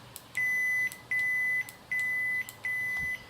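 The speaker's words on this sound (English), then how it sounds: "So to reduce the volume, press on the auxiliary button." Four steady electronic volume-menu beeps from a ProffiePixel lightsaber, each about half a second long and evenly spaced, sound clearly with faint clicks between them.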